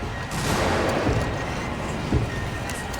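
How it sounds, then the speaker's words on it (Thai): Loud gunfire booms out in the horror video game Alien Isolation, a couple of sharp reports over a dense, rumbling game soundscape. "เฮ้ยเสียงปืนมันดังแล้วอะดังเปรี้ยงเลยฮะ"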